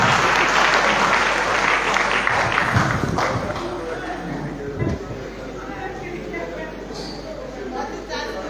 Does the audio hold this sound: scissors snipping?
no